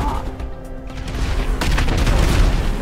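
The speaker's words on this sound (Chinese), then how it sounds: "我系路过个炸弹啱啱爆炸" A bomb going off in GTA V Online, a loud booming blast that swells into a rumbling roar lasting several seconds, with crackling debris-like bursts and no speech.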